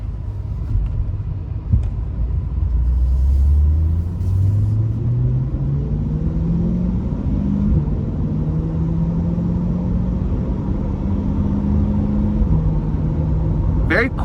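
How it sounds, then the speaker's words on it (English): A 2020 Corvette C8 3LT Z51 driving on the road in track mode, its engine droning steadily from inside the cabin and rising in pitch through a long pull before a quick shift, with road rumble underneath. "take the C8 out on the road for a quick test drive"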